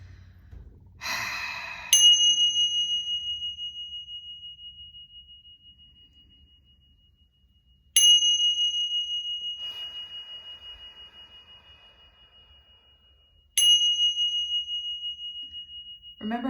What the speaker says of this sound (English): I'm gonna hit some chimes because we need some energy clearing after this